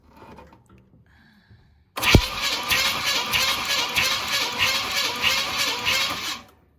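A 1969 Pontiac Bonneville engine cranking on the starter during a compression test, a sudden start into a loud, even, rhythmic chugging that runs for several seconds before cutting off.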